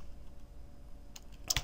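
Keys clack on a computer keyboard in a short burst of several taps near the end, faint and close, with no talking.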